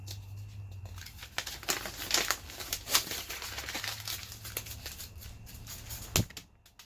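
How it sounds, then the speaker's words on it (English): Sheet of paper being crumpled, with crinkling and rustling bursts and a sharp snap near the end, close and moderately loud with no talk. "Why do you throw the paper at the camera?"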